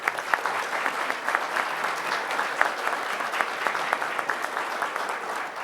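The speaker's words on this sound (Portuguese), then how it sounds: "Uma salva de palmas, senhoras e senhores." Audience at a Brazilian honors ceremony for public security agents giving steady, dense applause, a continuous round of clapping with no talk over it.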